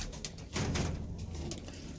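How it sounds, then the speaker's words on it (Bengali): Big-size Kaldoma pigeons cooing close by in low, soft throaty calls, faint overall, with a brief knock partway through. "দেখুন ঠিক আছে একদম বিগ সাইজের পায়রা একদম বিগ সাইজের পায়রা"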